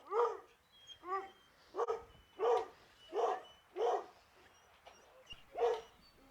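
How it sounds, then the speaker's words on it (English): Dogs at a house bark at workers on the roof, giving seven sharp, evenly spaced barks at a moderate distance, each separated by a short quiet gap. "Most times when someone comes, we find out from the dogs barking."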